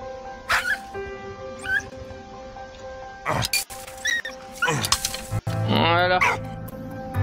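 A dog in the video game Valiant Hearts yips, barks and whimpers in short, close, high-pitched bursts over a busy game soundscape with tonal hums, one whine rising in a wavering squeal.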